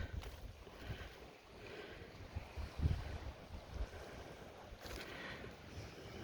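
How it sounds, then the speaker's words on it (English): Ocean waves crash and wash along a rocky winter coastline in a steady roar, with surges swelling every few seconds and gusty wind buffeting the microphone. "Oh my gosh, look at those waves."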